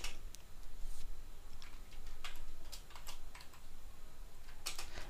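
Computer keyboard typing a terminal command, a run of quiet, irregular clicky keystrokes in a quiet room with no voices.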